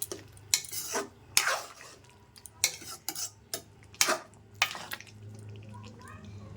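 A spoon mashes potatoes in a pot of curry, with a series of sharp scraping clinks against the metal pot, irregularly spaced and close, over a faint background hum.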